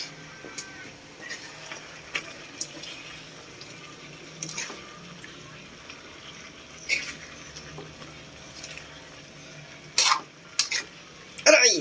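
Chopped white onions frying and being stirred in a pan for a simple pork stick dish, with soft sizzling under intermittent scraping and clattering strokes that grow louder and sharper toward the end; no one speaks.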